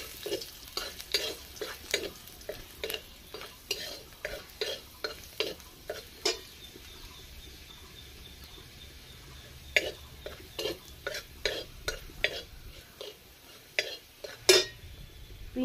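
Onions fry in a pan for homemade pizza, with sharp spoon-against-pan scrapes and clinks in an irregular rhythm over a soft, steady sizzle, pausing briefly midway before the stirring resumes.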